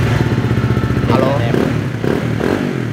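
A used motorcycle idles at a dealership, its engine giving a steady, close, pulsing putter with a few revs and clattering thumps, while someone talks over it.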